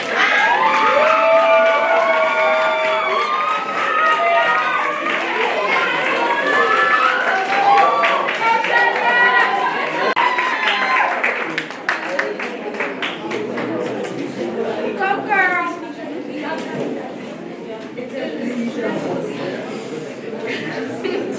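A student crowd cheers and whoops for school council election candidates at a campaign event, with excited shouting and chatter over scattered clapping. The noise stays loud and lively throughout, then eases into a calmer crowd murmur.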